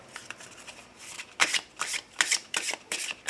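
A deck of oracle cards being shuffled up close, with soft papery rustling that builds into several crisp riffling bursts in an uneven rhythm, no voices.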